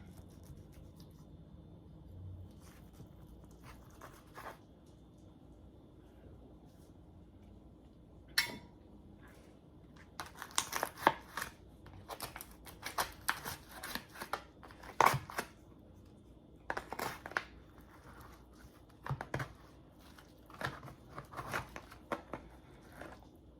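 A piece of breakfast casserole with eggs, sausage and cheese being cut and lifted out, quiet at first, then sparse close scrapes, taps and light clinks of the utensil against the dish.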